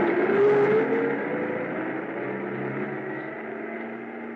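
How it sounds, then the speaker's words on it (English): A truck pulls away through snow, its engine a steady low rumble that eases slightly as it recedes, with no voices over it. "I stood there in the snow watching the headlights of the truck move away."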